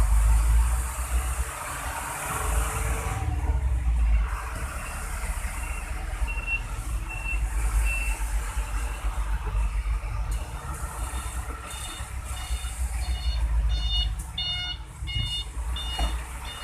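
A traffic jam on the eastern route near Palembang, with trucks and cars idling in a loud, constant low rumble and bursts of repeated electronic beeping near the end.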